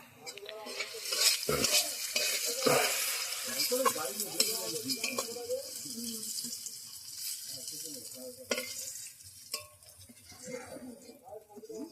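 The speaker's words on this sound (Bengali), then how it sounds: "ওই তেলের মধ্যে চিংড়িগুলো ভেজে নেব" Vegetables or prawns frying and being stirred in oil in a pan in a village kitchen, a bright crackling sizzle broken by spoon scrapes and clinks, with a person talking over parts of it.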